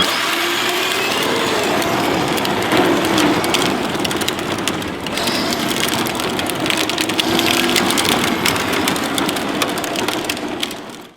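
A 48V-powered electric Power Wheels Jeep drives in reverse, giving a loud, steady whirring motor and gear rumble with crunching wheel noise over the ground, continuous and close.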